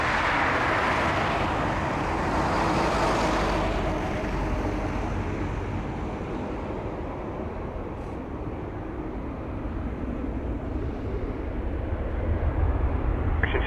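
WestJet Boeing 737-800 at Toronto Pearson airport, a broad continuous jet engine roar that swells early, then eases into a steady rumbling drone at moderate distance.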